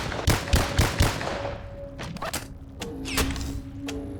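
Gunfire from a powerful weapon in the VR game BONELAB: four sharp shots in quick succession, then sparser cracks and impacts with ringing tones, loud and close.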